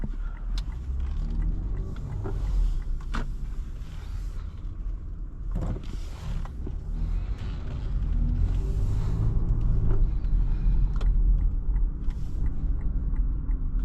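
A 2022 Lexus RX 350 F Sport driven in Sport Plus mode, heard from inside the cabin as a steady low engine and road rumble with a few creaks and clicks. The drone swells louder toward the end.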